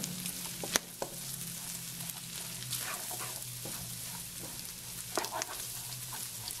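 Sun-dried beef (carne de sol) and sausage fry in a pan with a steady, close sizzle and occasional sharp clicks of stirring.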